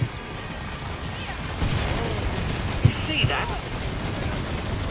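Gunfire and reloading from a shooter video game, heard as a busy clatter of rapid shots and mechanical clicks with a couple of sharper bangs near the end, over constant background noise.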